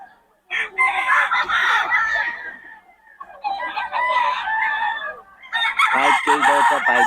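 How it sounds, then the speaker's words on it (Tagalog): Roosters at a market crow loudly and close, three long drawn-out crows in turn with clucking between them. "Quality mga manok ni boss Batang ngayon."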